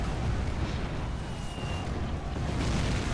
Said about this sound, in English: Mortars are still firing.